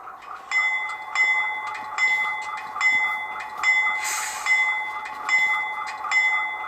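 An HO-scale Rapido C36-7 model locomotive's ESU DCC sound decoder bell rings steadily, about eight evenly spaced metallic dings with a short hiss partway through, close and moderately loud.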